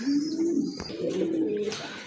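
Large, healthy pigeons coo in low, rolling, fairly loud calls close by, with a brief sharp knock partway through.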